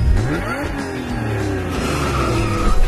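A pink Girlmazing Big Foot Jeep RC car at 1:16 scale drives with a revving, rising motor whine, loud and close, accelerating over a few seconds.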